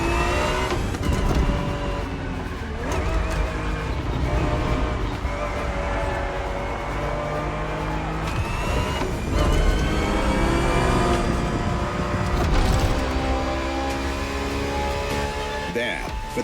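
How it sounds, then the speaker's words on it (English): A Ferrari 365 GTB4, a 1970s sports car, races in The Crew Motorfest, its engine droning steadily and loudly throughout, with the pitch rising and falling as it revs through the gears. "365 GTB4 is the perfect vehicle for you to experience Ferrari racing as it felt back in the 70s"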